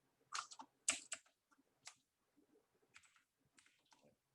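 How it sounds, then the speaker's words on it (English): Bursts of typing on a computer keyboard in a quiet room, irregular clusters of clicks with short pauses, fairly close, loud strokes early then softer taps. "Keyboard's not in a very handy spot while I do this."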